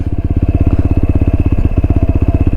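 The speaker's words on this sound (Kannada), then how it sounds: "ಇವಾಗ ಗಾಡಿ ಸ್ಟಾರ್ಟ್ ಆಯಿತು ಬರೀ ಕ್ಲಚ್ ಬಿಟ್ಟರೆ ಸಾಕು ಗಾಡಿ ಏನು ಆಫ್ ಆಗಲ್ಲ" TVS Apache RTR 160 motorcycle easing away on the clutch alone without throttle, a close, steady low-pitched single-cylinder thump pulsing evenly at idle-like revs.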